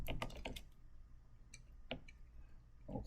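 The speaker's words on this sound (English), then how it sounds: "And I'll type in last name." Computer keyboard typing while entering spreadsheet column headers: a few quick, soft clusters of key clicks followed by scattered single taps, close and quiet with no talking.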